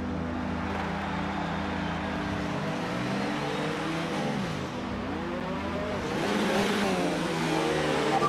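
Formula 1 car engine in the racing game F1 2019, a loud, close, high-pitched whine that revs up and down in sweeping rises and dips through the gears, alone without talking.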